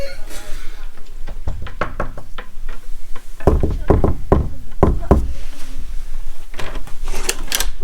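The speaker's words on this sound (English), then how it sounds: "can you go out and then knock on the door?" Knocking on a hotel room door at a Premier Inn in Stoke: several sharp raps come in a few quick bursts, close and loud, with people talking around them.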